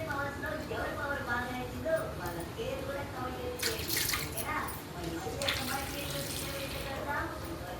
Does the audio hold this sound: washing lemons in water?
yes